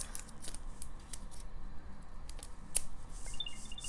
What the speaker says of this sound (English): We will unwrap all of these.